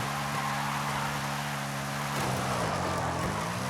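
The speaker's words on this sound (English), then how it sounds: "I'm just kind of drifting back and forth." In Forza Horizon, a car engine drones steadily while drifting back and forth, holding a sustained rev that shifts pitch partway through, loud and continuous with no speech.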